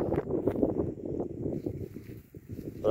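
Strong wind blows outdoors on a hot summer day near rural cornfields, with loud, gusty low rumbling against the microphone that dies down briefly near the end and then surges again.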